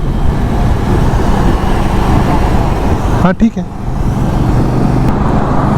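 A 2021 Royal Enfield Meteor 350 motorcycle on the move, its engine thrumming steadily under wind and road roar, with a brief spoken exchange partway through.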